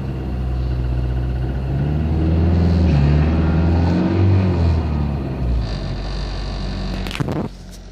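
A car engine cold-starts at about minus 30 degrees in Siberian winter, a loud, close rumbling crank that catches and revs up, then settles and drops off, followed by a brief clatter.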